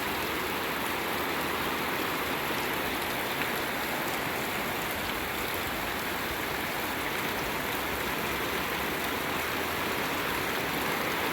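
Steady rain falls in a dense, even hiss, pattering on surfaces without a break, with no talking.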